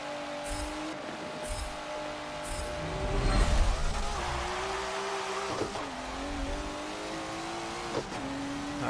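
A roughly 530-horsepower car in Forza 7 drifts on race tires. The engine revs and holds a sustained, wavering tone, with short bursts early on and a louder surge of tire noise in the middle, close and fairly loud.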